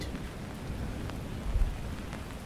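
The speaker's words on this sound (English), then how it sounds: "the sound of the rain on the umbrella" Steady rain patters on an umbrella during a rainy-day walk, a soft, continuous hiss with a slightly louder gust-like swell near the middle, and no voices.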